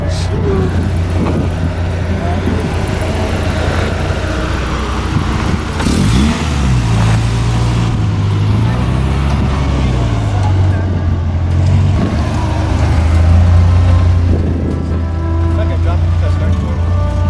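A Nissan 240SX with a rebuilt KA24E engine revs loud and close, the engine note rising and falling repeatedly over a sustained roar, with people talking over it.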